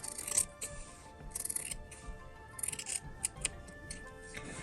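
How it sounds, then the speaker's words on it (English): Scissors snipping through a small fabric scrap to cut a triangle, close and quiet, with several short crisp bursts of blade clicks separated by brief pauses. "so you can cut just like a triangle"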